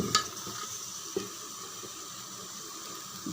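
A spoon stirs cooked rice and moong dal for sweet pongal in a pot, soft scraping and faint sizzling with a couple of light clinks, close and quiet.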